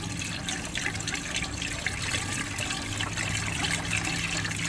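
Washer fluid pours steadily into the reservoir of a 2020 Toyota Corolla LE, a soft continuous liquid trickle and gurgle heard up close, faint and alone.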